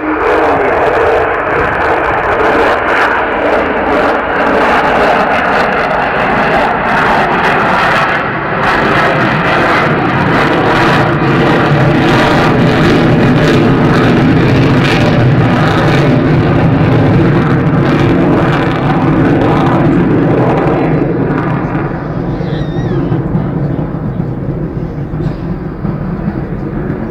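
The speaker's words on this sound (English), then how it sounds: "That lovely noise comes from the four Rolls-Royce Bristol Olympus engines" Avro Vulcan XH558's four Rolls-Royce Bristol Olympus engines roar loudly and continuously, a thick, sustained rumbling howl that swells as the aircraft passes close overhead, then slowly recedes.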